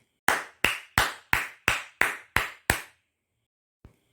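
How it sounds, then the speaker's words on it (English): Eight crisp, close hand claps in a steady, evenly spaced run, followed by a short pause and one faint tap near the end, part of a children's counting exercise. "Let's clap 8 times for 8."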